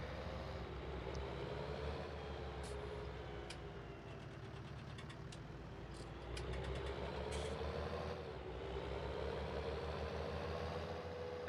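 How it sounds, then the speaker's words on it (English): Tractor engine in the video game Farming Simulator 19, a steady low drone with slight shifts in pitch and light clicking sounds over it, no voice. "I do like the sound in this tractor. You can hear it, like it's shifting."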